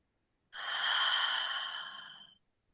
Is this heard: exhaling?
yes